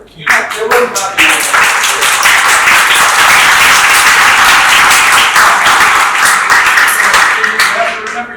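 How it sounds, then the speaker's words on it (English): Classroom of students bursting into loud, energetic clapping before a guest lecture on careers, starting with a few scattered claps and swelling into steady, dense applause, with voices briefly audible at the start. "So bigger clap."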